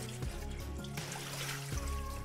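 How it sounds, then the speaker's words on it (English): Cold tap water trickles and splashes over raw shrimp as they are rinsed in a bowl, with a couple of sharper clinks and sloshes amid the steady running water. "I'm gonna rinse the shrimp in several changes of cold water until it runs totally clear."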